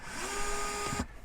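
A power screwdriver loosening screws on a Thetford RV toilet, a short steady whirring drive close up that winds down after about a second.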